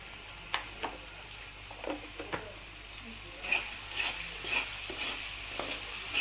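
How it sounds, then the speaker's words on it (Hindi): Spinach and chana dal roasting in a pan for a dhaba-style sabzi, giving a steady soft sizzle with scattered clicks and taps of stirring and a brighter, louder hiss in the second half. "भुनाई हो रही है।"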